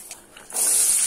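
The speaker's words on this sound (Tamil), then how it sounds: "கடுகு டக்குன்னு பொரிஞ்சிடும்" Mustard seeds hit hot oil with urad dal in the pan for a soya chunk podimas, and after a quiet moment a sudden bright hiss of sputtering oil bursts up and holds steady.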